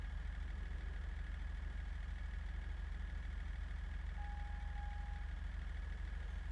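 A diesel truck engine idles steadily in a video game, a constant low rumbling drone with a faint knocking texture that holds at an even level throughout with no talk.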